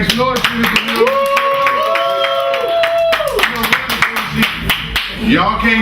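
Audience at a live show in a sports lounge clapping and cheering loudly and continuously, mixed with a host's shouting voice and crowd noise throughout.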